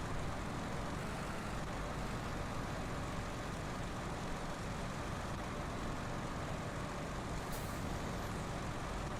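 Zikz 612H truck in SnowRunner, its engine a steady low rumble throughout with a brief hiss of air brake near the end, heard alone without talk.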